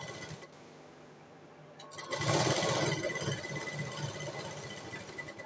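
Sewing machine stitching a button placket on fabric, a low mechanical whirr that starts partway through and runs steadily, with faint ticks before it begins.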